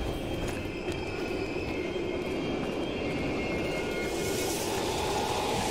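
A train rumbles past in the Black Ops Cold War campaign, set in an abandoned East German station, producing a steady, loud, continuous roar with faint high whine and no talk over it.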